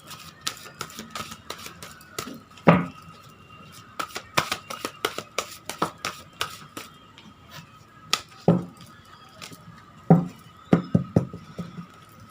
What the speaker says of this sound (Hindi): कार्ड को मैं अच्छी तरह से मिक्स कर लेती हूँ।